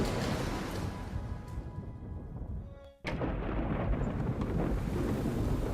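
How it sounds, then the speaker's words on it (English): A rumbling thunderstorm rages outside a lighthouse in the VR game A Fisherman's Tale, with steady roaring rain and wind that briefly drops away before a sudden loud thunder crack returns the full storm noise. "Outside, the storm raged."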